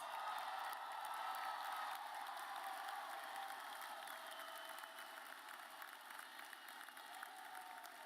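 Applause from a graduation ceremony audience, a steady wash of clapping that holds through the clip and slowly thins out, heard from a distance.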